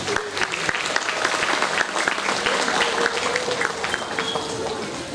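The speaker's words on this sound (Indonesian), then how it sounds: "Biasa tepuk tangan Bapak Ibu" An audience at a parenting talk on building children's confidence applauds, a dense continuous patter of many hands with a few voices mixed in.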